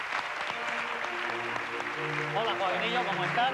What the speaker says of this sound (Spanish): Le aplaudimos para que oye.